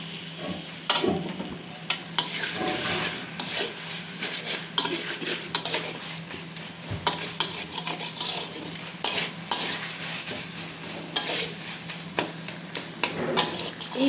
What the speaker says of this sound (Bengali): এখন আমি এর মধ্যে এক বাটি টমেটো দিয়ে দেবো দিয়ে এটাকে ভালো করে আবার কষিয়ে নেব